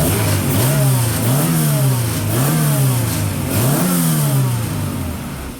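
A Honda Civic EF engine revs repeatedly in four rising-and-falling pulls, each climbing then dropping back, loud and close, with nobody talking.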